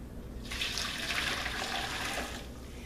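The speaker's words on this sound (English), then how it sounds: "So now we'll dump that into the lotion making pot." Liquid pours from a container into a lotion-making pot on a scale for homemade lotion, a short, soft splashing stream that starts after a quiet moment, runs for about two seconds, then tapers off.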